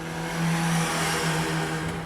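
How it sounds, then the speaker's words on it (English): Exhaust note of a 2021 Suzuki Hayabusa motorcycle, a continuous droning hum that swells slightly while running, steady and moderately loud with no voices. "The exhaust note is a fantastic sound to your ears"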